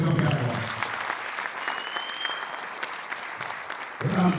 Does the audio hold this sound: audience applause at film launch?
yes